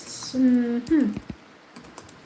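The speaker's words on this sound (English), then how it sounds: "I'm typing it again." Keyboard typing comes through as a short run of close, light key clicks, with a few sparse taps trailing off near the end of the brief stretch.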